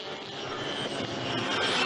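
GT race cars, a BMW, Porsche and Ferrari, battle at Zandvoort in British GT, their engines a steady, fairly distant roar that swells slightly as they pass, with no voices over it.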